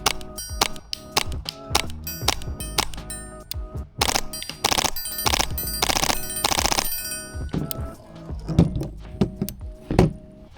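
MTW airsoft rifle set to 1 joule firing rapid bursts of sharp, snappy shots with metallic clacks, quick strings of reports separated by short pauses, then a few slower single shots near the end.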